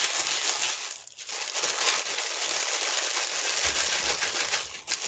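Colored rangoli powder is shaken inside a closed Ziploc bag, a continuous close rustling hiss with crinkling plastic and granular rattling.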